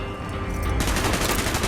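Rapid gunfire bursts in the Call of Duty: Black Ops campaign, a loud, dense volley of shots that erupts partway through and keeps rattling without pause.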